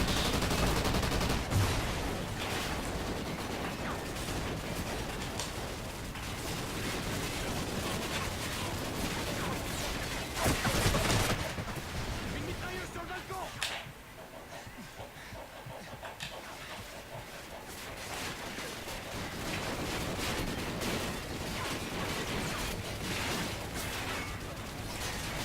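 Dense, continuous video-game battle from Call of Duty: Ghosts: rapid machine-gun turret fire and gunshots rattle throughout, with a heavy rocket-launcher blast around the middle before the shooting resumes, loud and close.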